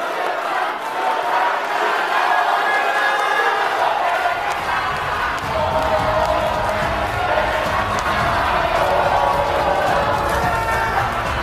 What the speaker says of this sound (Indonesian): Berikan aplaus dan apresiasi untuk 3 calon wakil presiden